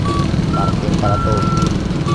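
A vehicle's reversing alarm sounds in intermittent beeps while parking at a vacant lot, under a loud rumbling background, with voices talking nearby.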